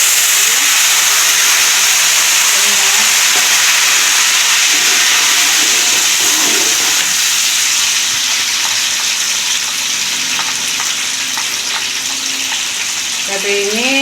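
Ground fried chili paste sizzles loudly in a frying pan for Padang-style balado fish, a dense, constant hiss that fills the whole stretch, with faint stirring beneath.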